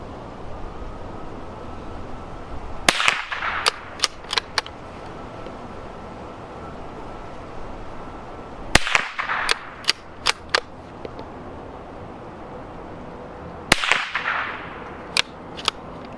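Shots from a Savage Mark II rifle ring out in three separate strings, each a loud sharp crack followed by a few quicker cracks, separated by pauses over steady outdoor background noise.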